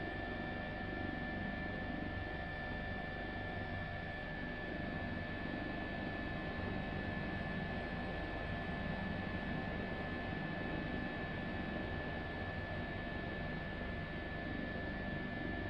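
A Microsoft Flight Simulator H135 helicopter's engine drones steadily with a constant whining hum and a few sustained tones, unchanging and fairly quiet throughout, over the Grand Canyon.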